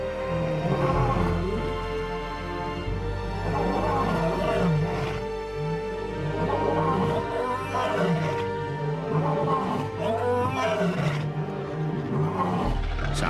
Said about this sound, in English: I can hear roars all around.